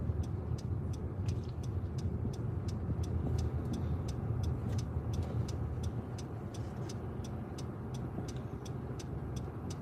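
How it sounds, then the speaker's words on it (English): Steady roar of road traffic in Mount Salem, Montego Bay, with cars passing continuously, loud and close, and a faint repeating high chirp running throughout; no talking. "it's a lot of traffic"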